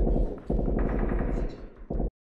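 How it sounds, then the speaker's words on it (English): Gunfire from a Breaking Bad episode: a rapid, continuous automatic burst played at moderate volume, dropping off briefly before a final short volley. "I'm waiting to hear gunshots."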